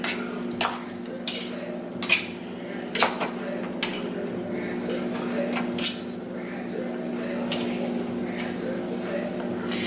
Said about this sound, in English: I have my big fork and my knife, and I'm just going to go ahead and stab it like that. And shred it with the knife off the fork like that.